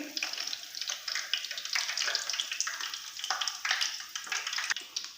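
Chicken donuts fry in hot oil with a steady, busy crackle and sputter, fairly close and continuous with small pops throughout, and no voice over it.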